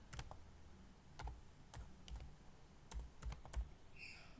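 Typing on a computer keyboard while entering a filename in a C code editor: sparse, irregular key clicks and thumps spread over a few seconds, close and quiet, with no talking.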